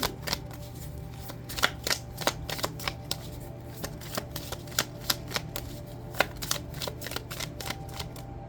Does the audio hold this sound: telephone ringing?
no